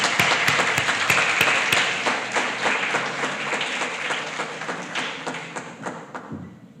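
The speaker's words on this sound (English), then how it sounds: "let's give a round of applause because this is quite a big deal" Applause at a Grade 7 primary school prize giving ceremony, dense and loud with sharp individual claps standing out near the front, holding steady then easing slightly toward the end.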